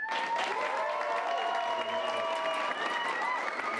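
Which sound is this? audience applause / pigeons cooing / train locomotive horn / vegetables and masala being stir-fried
audience applause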